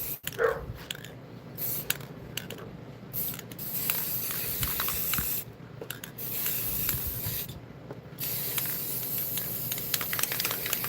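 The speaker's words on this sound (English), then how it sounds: "This can of spray paint is dead," Steady broadband hiss of a nearly empty spray paint can, sputtering and uneven with brief breaks, close and fairly loud, with faint birdsong in the background.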